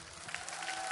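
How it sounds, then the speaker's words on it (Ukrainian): A studio audience at a live broadcast of The X-Factor Ukraine talent show applauds for contestant Dmytro, a short burst of steady clapping with faint tonal sounds mixed in. "Ваші оплески Дмитру."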